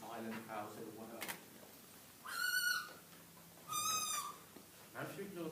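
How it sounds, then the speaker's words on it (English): A captive barn owl on a school visit gives two harsh, drawn-out screeching calls, each about half a second long, while people talk nearby. "I want you to try to ignore the noise coming from her beak and listen to the noise from her wings."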